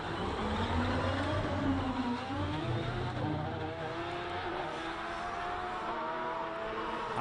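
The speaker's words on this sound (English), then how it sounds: "And that is the sound of the Gould GR55 revving up." Gould GR55 hillclimb race car at a King of the Hill hillclimb event, its engine revving loudly and continuously with a rising and falling roar, close by and steady throughout with no talk.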